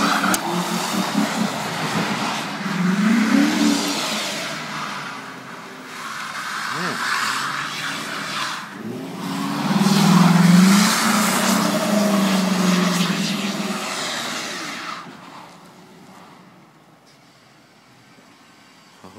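A 2003 Chevy Silverado pickup spins donuts in the snow, its engine surging loudly in two long revving swells with tire noise, then easing off to a quieter idle near the end.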